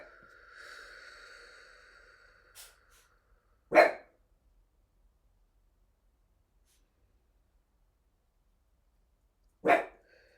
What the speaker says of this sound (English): Literally dogs barking at a cat, cats and dogs